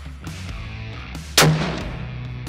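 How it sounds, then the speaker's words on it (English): A single loud, sharp rifle shot cracks out outdoors in Namibia, with a booming tail that rolls away over steady background hum. "Fire in the hole."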